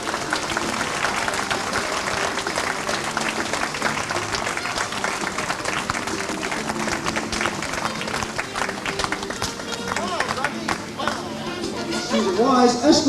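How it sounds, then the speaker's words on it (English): Guests at a wedding reception applaud a couple's entrance, sustained clapping over background music and crowd chatter, holding steady and swelling louder near the end. "Let's hear it for a big round of applause."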